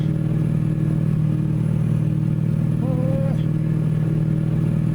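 Caterpillar 3208 diesel in an International F 5080 truck in American Truck Simulator, pulling uphill: a steady, loud, low engine drone that holds throughout with a faint rising whine partway, and someone talking over it.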